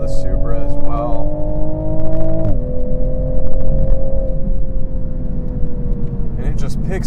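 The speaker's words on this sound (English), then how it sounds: "It's just so clean and smooth sounding, just like a traditional turbocharged inline-six power plant" Turbocharged inline-six engine of a 2022 Toyota A90 Supra pulling smoothly, a loud steady drone whose pitch climbs, dips at a shift, then climbs again, with someone speaking over it.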